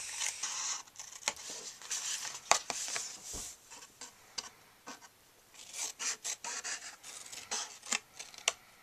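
Paper being trimmed for a Stampin' Up! foil gift box gives close, scratchy rasping and cutting strokes in irregular bursts, with short pauses between passes.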